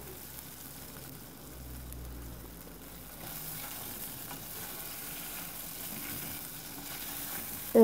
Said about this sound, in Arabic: غادي نخليوه يتقلى حتى يبدا يتحمر كيف ما كيبان لكم.